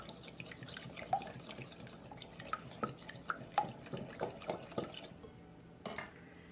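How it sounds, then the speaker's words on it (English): Two eggs are beaten in a bowl with a quick series of light, close clinks and taps of utensil against the dish, fairly quiet, ending in near silence. "I'm going to take 2 eggs. Mix those up."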